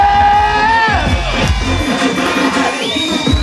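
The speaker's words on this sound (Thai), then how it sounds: "เสียงปรบมือกับหนูน้อยของเราด้วย" A crowd at a campfire gathering cheers and whoops for a little girl, with lively shouting and babble filling the space and some loud sung or shouted voices over the noise.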